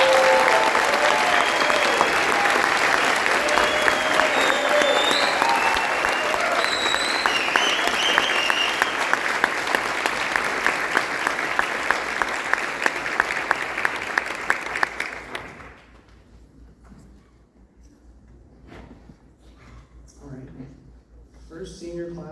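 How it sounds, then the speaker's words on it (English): Audience applause fills a school band's spring concert, a dense steady clatter of many hands that runs loud for about fifteen seconds before stopping abruptly, leaving quiet room noise and faint movement. "Let's give these guys a round of applause."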